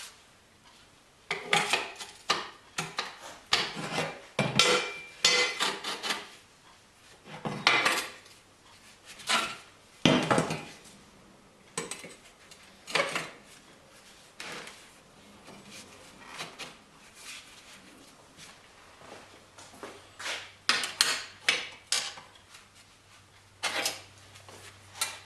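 Metal table frame parts cut from bed frames being tack welded, giving short irregular crackling bursts and metallic clanks separated by pauses, close and fairly loud with no talk.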